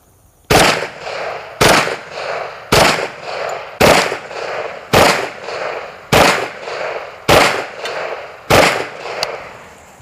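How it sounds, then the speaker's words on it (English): Kriss Vector .45 ACP fired in double taps at a range: nine loud, evenly spaced sharp bangs about a second apart, each pair closely merged, with no voices. "these double taps coming from the kriss are going to be really devastating downrange"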